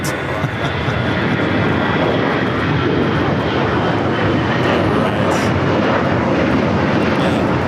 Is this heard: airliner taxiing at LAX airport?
yes